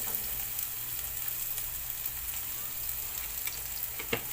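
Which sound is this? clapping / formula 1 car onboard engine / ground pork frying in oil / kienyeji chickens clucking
ground pork frying in oil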